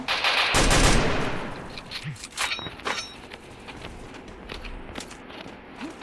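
Gunfire rings out in the final fight of a video game battle round: a loud, dense burst of automatic fire at the start, then scattered, fainter single shots and short volleys trailing off.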